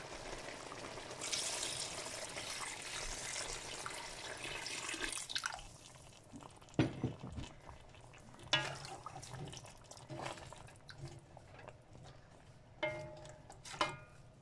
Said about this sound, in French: je vais ajouter 1 litre d'eau pour pouvoir cuire la viande.